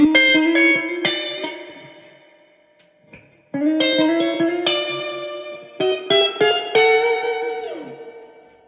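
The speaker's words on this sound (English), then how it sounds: "this is a really nice sound deluxe reverb reissue" An electric guitar rings through a Fender '65 Deluxe Reverb reissue amplifier turned to about 2.5, playing clean picked notes and chords with reverb tails in two phrases split by a brief pause.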